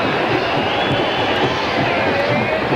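A vast football stadium crowd of about 80,000 at the Gator Bowl cheers in a dense, steady roar that fills every moment, loud and continuous, with no single voice standing out.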